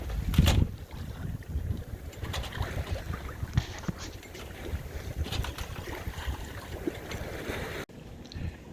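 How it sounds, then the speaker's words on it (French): Sailboat running under genoa at about 5 knots on a calm grey sea, with a steady rush of water along the hull and gusty wind buffeting the microphone, no voices. "Nous naviguons sous génois à une vitesse de 5 nœuds. La mer est grise mais calme."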